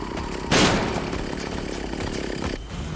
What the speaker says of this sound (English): we need to dodge an incoming chainsaw attack